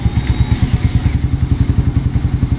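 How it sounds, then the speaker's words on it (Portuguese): A Honda CB 300 motorcycle fitted with a Dore exhaust and a machined TBI runs close by, its engine thumping in a steady, loping idle rhythm of strong low pulses with no speech. "Agora é hora de ver o barulho que ficou esse motor aqui."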